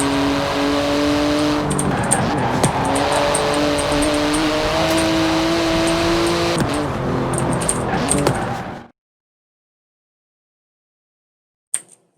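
A car engine driving in Forza Horizon 4, a continuous loud tonal drone that shifts pitch as the revs change for about nine seconds before cutting off abruptly, then near silence with a brief click at the end.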